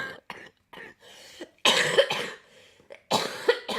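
Several harsh coughs and throat-clearing bursts, loud and close, with brief pauses between them and no speech.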